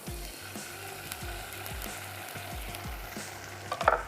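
Garlic and ginger paste added to softened onions and frying in a pan, giving a steady close sizzle with rhythmic scraping stirs, a few louder crackles near the end.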